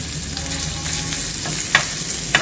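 Ginger and garlic hit hot oil for veg momos filling, giving a continuous close sizzle with a couple of brief scrape or clink accents near the end.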